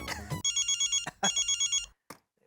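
A telephone bell rings in two clear trilling bursts, loud and close, with brief noise between and a short click near the end.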